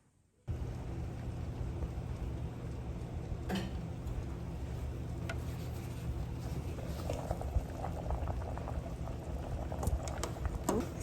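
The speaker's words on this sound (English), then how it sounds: "Now we are going to go ahead and put our chickpeas to boil." Chickpeas boil in a pot with a steady close bubbling that begins abruptly after a moment of silence and keeps going with small pops and patters.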